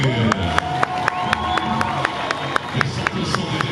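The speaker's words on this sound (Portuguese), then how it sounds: "E agora, ó, mais uma vez, vamos aplaudir." A circus audience at a Globe of Death motorcycle show claps in rhythm, sharp regular handclaps over crowd noise and an announcer's voice.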